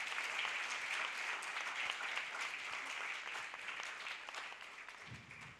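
Crowd applause at a launch event for a campaign to end child hunger, sustained, fairly distant clapping from many hands that gradually tapers off toward the end.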